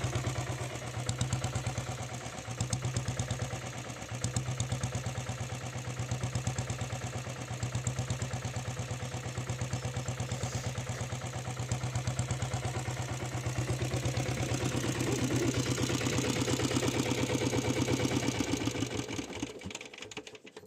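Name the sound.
Royal Enfield diesel Bullet motorcycle engine idling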